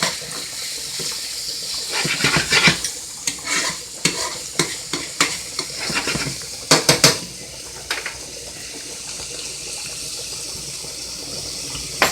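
Metal tongs handling lobster in a pot of boiling water while making lobster spaghetti Florentine: a run of close, sharp clanks and scrapes against the pot over a bubbling, sizzling background, with no talking.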